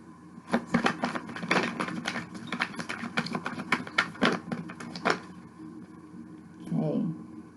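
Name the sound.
shuffling tarot cards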